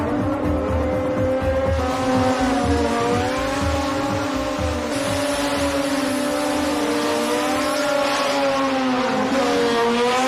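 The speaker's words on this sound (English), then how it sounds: "Big, serious burnout by Emmanuel" An import race car does a big burnout at a night drag race, its engine roaring loud and steady with rising and falling revs and tire squeal throughout.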